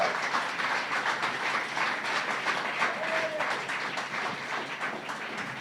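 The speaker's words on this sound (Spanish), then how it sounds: "dale un aplauso a Dios" Church congregation applauding during a Sunday sermon, a continuous rumbling wash of clapping from a large crowd in a reverberant hall, steady and even throughout.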